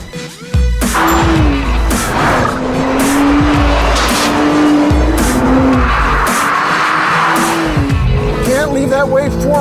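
A Nissan GT-R, an updated all-wheel-drive model, is driven hard on a track: a loud engine rises and falls through gear changes while tires squeal through corners, with someone talking over the noise.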